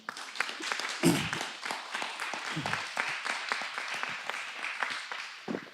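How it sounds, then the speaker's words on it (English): An audience at a police chief candidate presentation gives a round of applause, a soft and fairly distant patter of clapping that stays even, with a few brief voices mixed in. "I give them a round of applause"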